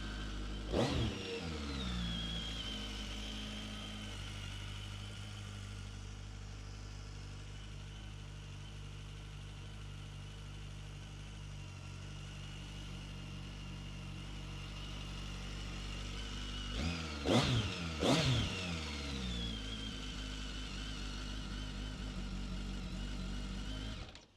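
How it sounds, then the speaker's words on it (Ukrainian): A BMW K1300R four-cylinder motorcycle engine idles with a steady, close rumble, briefly revved once near the start and again later. "Дуже круто так, такий рокот 4 двигуна цього."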